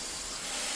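Filtered handheld shower head with the valve fully open, spraying a fine water mist: a steady close hiss of spray lasting under a second, with no voices.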